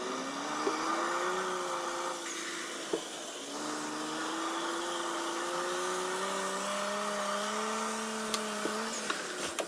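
A small RC car, one of a Siku, Drift or 143RACE model, drives and drifts with a continuous whining electric motor whose pitch rises and falls with speed, close and steady, with occasional small clicks and no voices.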